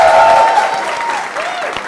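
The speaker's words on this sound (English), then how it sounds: "can we give her one more massive round of applause" A studio audience at a live talk-show taping gives sustained, dense applause, loud and close throughout, with a faint voice or tone running underneath.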